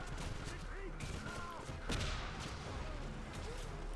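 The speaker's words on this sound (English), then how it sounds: "this is a perfect time to use a grenade" Grenade blast from the video game Wolfenstein on PS3, a dense burst of gunfire-like booms and crackle with a stronger hit near the middle, over steady game background noise.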